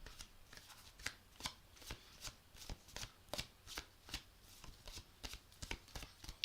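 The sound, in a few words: tarot cards being shuffled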